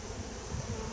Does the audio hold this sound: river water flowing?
no